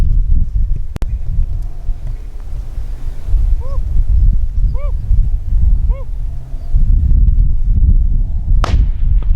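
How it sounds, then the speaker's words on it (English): One sharp rifle crack from a prairie dog hunt at 214 yards, set against heavy wind buffeting the microphone, with a few faint chirps and another short noise near the end. "Man, Frank, you just hit the fucking shot."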